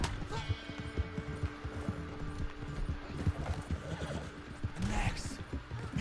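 In the video game Red Dead Online, a horse neighs amid a busy clatter of hooves, with rumbling background noise throughout.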